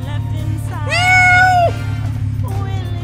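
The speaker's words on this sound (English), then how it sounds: "Kitty cat!" A cat meows once in the video game Pumping Simulator 2, a loud drawn-out call over a steady low hum, followed by a fainter shorter meow.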